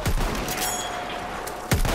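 Video game gunfire in a Saving Private Ryan style battle, with loud close bursts of shots at the start and again near the end and a rattling fusillade in between.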